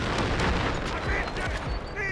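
Gunfire and explosions in the shooter game Delta Force, with dense, continuous firing and heavy booms throughout, mixed under excited voices talking.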